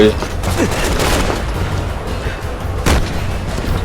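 Loud gunshots ring out in Resident Evil 6 amid game action, with a few sharp, heavy reports, one especially prominent near the end, over a rumbling background.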